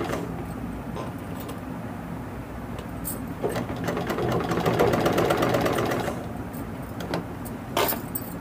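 An electric sewing machine stitches a frock, a fast mechanical whirr that runs for a few seconds in the middle, with faint background hum and a couple of handling clicks around it.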